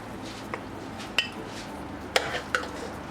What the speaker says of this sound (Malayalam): ഇതിലേക്ക് ആവശ്യത്തിനുള്ള മല്ലിയില കട്ട് ചെയ്തിട്ട് കൊടുക്കാം. ഒന്ന് ഇളക്കിയ ശേഷം ഗ്യാസ് ഓഫ് ചെയ്ത്